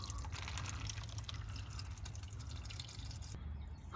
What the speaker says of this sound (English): I'll just let all the water drain on the driveway